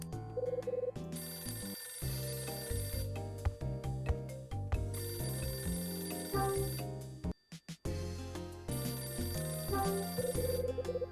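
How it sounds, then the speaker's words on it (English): A telephone rings repeatedly in the Hotel Dusk: Room 215 video game, a bright electronic trill returning in bursts over background music. "Phone's ringing."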